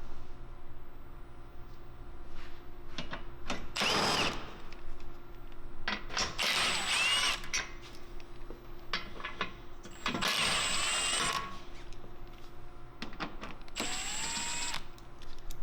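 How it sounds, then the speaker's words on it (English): A power tool drives out 10mm bolts holding the bumper cover to the crash bar on a Toyota Tacoma, with three loud whirring bursts a few seconds apart amid quieter clicks and handling noise nearby. "Remove the 4 10mm bolts holding the bumper cover to the crash bar."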